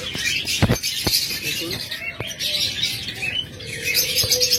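A pair of cockatiels at a bird sale, giving repeated sharp squawks and chirps close by while a person speaks briefly over them.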